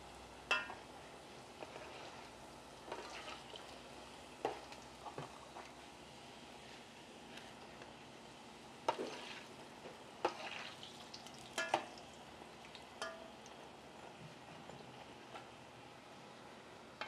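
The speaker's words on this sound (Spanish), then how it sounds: "ya voy a poner a dorar la tortilla, está el aceite bien caliente" Tortilla frying in very hot oil in a home kitchen, a soft steady sizzle with scattered crackles and pops, fairly quiet and heard alone.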